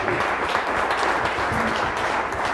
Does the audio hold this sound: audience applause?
yes